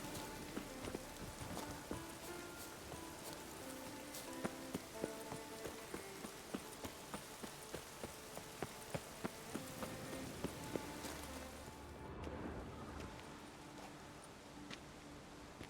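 Rain falls steadily in the open world of The Witcher 3: The Wild Hunt, a soft continuous patter with faint hoofbeats clopping through it at a low, distant level.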